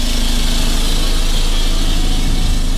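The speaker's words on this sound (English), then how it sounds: "It's got no exhaust on it yet, so it's a bit noisy." A Ford Transit Mk1 engine idles with no exhaust fitted, giving a loud, steady, raw drone with no break and no voices.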